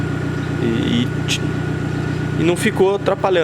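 A Fiat T-Jet engine with its final muffler removed idles with a deep, steady throaty drone, while someone talks over it, his voice growing more prominent toward the end.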